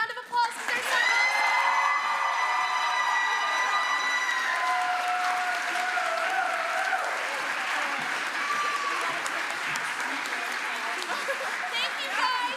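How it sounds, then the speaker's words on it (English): Loud, sustained audience applause with cheering and whoops after a stage musical performance, steady clapping filling the whole stretch while sung or held voice tones ride over it early on. "If we can give them one more round of applause, because they're so awesome."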